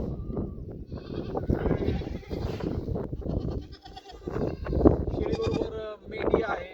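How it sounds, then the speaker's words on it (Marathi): Goats and sheep bleat repeatedly on a farm, several overlapping calls near and far amid a busy herd, with a person talking underneath. "शेळीबरोबर मेंढी आहे."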